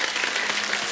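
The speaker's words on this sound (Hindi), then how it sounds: "किरण जी से पहले जीवन साहब के लिए जोरदार ताली हो" Studio audience on The Kapil Sharma Show clapping in a brief, dense burst of applause, loud and continuous with no talk over it.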